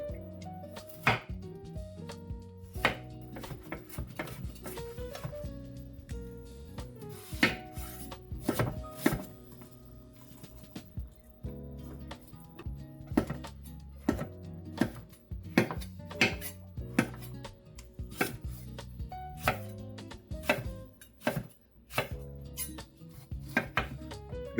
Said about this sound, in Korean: 양념장이 완성되면 야채를 썰어 보도록 할게요.